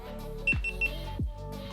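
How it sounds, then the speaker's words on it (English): A GoPro Hero 10 camera beeps as it powers on, giving three short high electronic beeps close by, with two soft thuds from handling in between. "Beep, beep, beep. So it's on."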